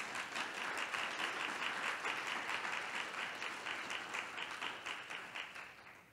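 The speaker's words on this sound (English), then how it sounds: "We can clap there." Steady audience applause fills the room, dense and continuous at moderate distance, holding level before tapering slightly toward the end.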